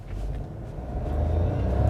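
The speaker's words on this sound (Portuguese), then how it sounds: "vou pisar fundo em 3, 2, 1, pisei" Fiat Fastback Audace Turbo 200 Hybrid with CVT gearbox at full throttle from a start, a low engine drone heard from inside the cabin that swells gradually in loudness, with no talk.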